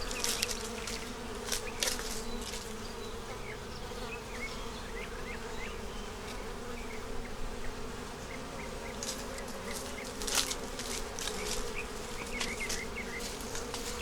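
Honey bees buzz around a bee hive in a dense, steady hum, with individual bees flying close past the microphone now and then to add sharper passing buzzes.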